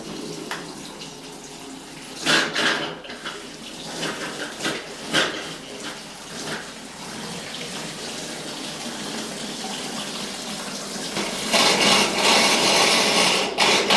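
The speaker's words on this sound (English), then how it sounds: "Turn on your valve first. Be prepared, it'll splash a little bit." Water splashes and rushes from a valve opened during a water pipe cleaning demonstration, a steady hiss with louder bursts near the start and a stronger surge toward the end, plus a few clunks.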